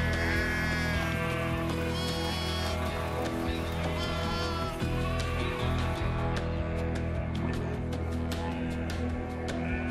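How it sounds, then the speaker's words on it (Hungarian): A flock of sheep on a farm where kelpie herding dogs are bred, steady overlapping bleats at moderate distance, with a faint voice talking under them. "Ezek birkák."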